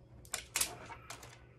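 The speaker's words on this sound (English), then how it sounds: "Let's pull this piece of plastic off here." Plastic protective film is peeled off a LaView outdoor security camera, giving three short, faint crinkly crackles close by in a quiet room.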